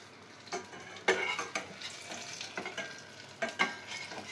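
Fritters (bora) frying in hot oil give a steady close crackle, broken by a few sharper clatters of stirring or utensil knocks, with no talking.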